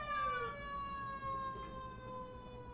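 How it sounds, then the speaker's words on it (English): Emergency vehicle sirens wailing outside, several overlapping steady tones heard faintly at a distance, drifting slightly in pitch. "I'll just wait until these sirens are done."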